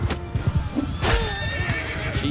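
A horse whinnies loudly and close in a Mount & Blade II: Bannerlord battle, over thudding hoofbeats and busy combat noise.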